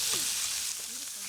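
Food sizzles steadily in a pan. The frying hiss is close and constant, with a faint voice in the background.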